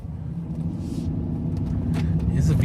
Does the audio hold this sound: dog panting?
no